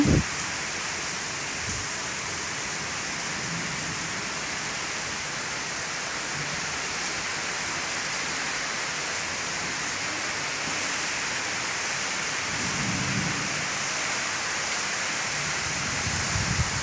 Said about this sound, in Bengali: অনেক দিন পরে বৃষ্টি আসছে অনেক ভালো লাগে অনেক গরমের পরে এখন বৃষ্টি পড়তেছে